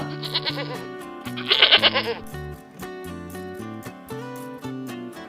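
Goats bleat loudly in two strong bursts, first briefly and then longer, over a steady musical backdrop. The goats belong to a village mutton seller who carries them on his bicycle.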